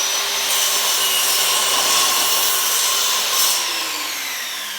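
Power saw cutting through a wooden board in a workshop, a loud close whining grind that swells mid-cut and eases off at the end, with no talk.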